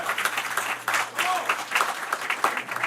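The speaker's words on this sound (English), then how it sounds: "please let's give him another round of applause" At a city council meeting, a room of people applauds a new council member, with steady, moderately loud clapping throughout, some crowd murmur and a faint background hum.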